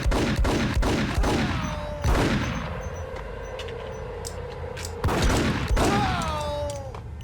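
Sharp gunshots ring out in Max Payne, a quick run of shots at the start followed by single heavy reports with ringing, echoing decays, loud and close.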